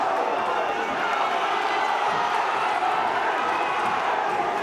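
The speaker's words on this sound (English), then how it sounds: "People standing up cheering all around this arena." Arena crowd at a boxing fight standing and cheering, a steady, loud wash of roaring voices all the way through, with a commentator speaking over it.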